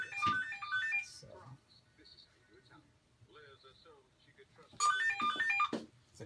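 Telephone ringing in a hospital procedure room, a repeated electronic warble heard as two bursts at the start and end, with quieter talk in between.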